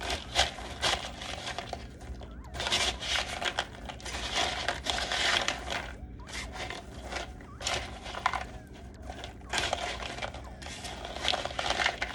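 A spatula stirs pecan halves through egg white, making close, wet clattering and crunching bursts in uneven rhythm, with short pauses between strokes.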